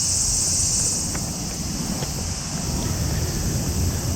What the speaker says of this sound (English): You can tell by the cicadas